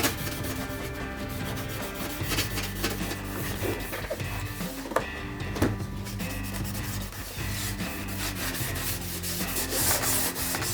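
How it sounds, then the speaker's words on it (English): Gray plastic trim on a tail light kit being scuffed by hand before painting, a steady close rubbing and sanding texture that runs the whole time, with a faint tonal background bed underneath. "scuff the gray surface that will be painted black"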